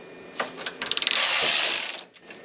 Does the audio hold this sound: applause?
no